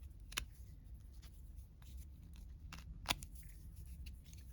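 Scissors snip through paper and leather in a few faint, sparse cuts, quiet crisp clicks and rustles close by against a low background hum, with no talking.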